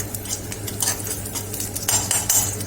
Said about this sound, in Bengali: এবার এটাকে একটু নাড়িয়ে নেব, এটা মিক্স হয়ে যাচ্ছে ভালো করে।